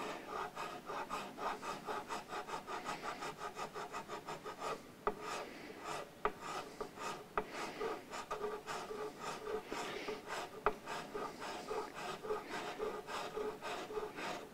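Steady rasping strokes of a file cutting guitar nut slots on a Burns Brian May Red Special, a close, continuous scratchy back-and-forth rhythm with brief pauses and sharper clicks between strokes.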